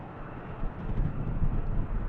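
A fixed-wing airliner roars down the runway on takeoff at Manchester Airport, its broad engine rumble loud and swelling with wind buffeting the microphone.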